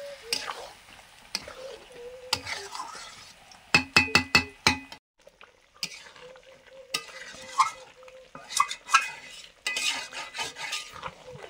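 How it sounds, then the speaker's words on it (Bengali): Marinated chicken for biryani sautés in a pot, with soft sizzling beneath intermittent scrapes and clinks of a metal spoon stirring, including a quick burst of sharp taps on the rim, close by. "মাংসটা কষানো চলছে"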